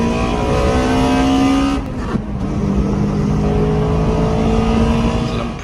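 A Toyota Corolla Sportivo engine revs loudly and steadily up close, its pitch rising and holding, with a brief dip partway through before climbing again.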